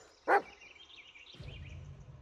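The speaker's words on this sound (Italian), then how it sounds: "Ascolta il suo abbaiare" A dog in the Blair Witch video game gives a single sharp bark, close and loud, followed by quieter ambient rumble and a faint low drone.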